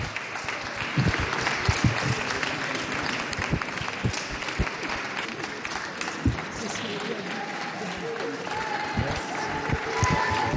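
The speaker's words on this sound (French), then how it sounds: "des acclamations, des applaudissements comme souvent" Crowd cheering and applauding for Gisèle Pelicot outside the Avignon courthouse, a steady dense roar of clapping and shouts lasting throughout, with scattered voices rising above it.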